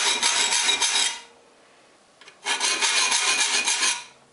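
A triangular file sharpens the teeth of a wood handsaw, giving two long bursts of harsh, steady metallic rasping separated by a short quiet pause, close and loud.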